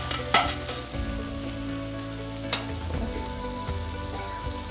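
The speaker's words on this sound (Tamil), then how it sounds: "நம்ம இதை ஸ்லோ ஃபயரில் நல்லா வதக்கி எடுக்க போகிறோம்" Brinjal and prawn masala sautéing over a low flame, giving a steady close sizzle with a few sharp scraping stirs of a spatula against the pan, and no talking.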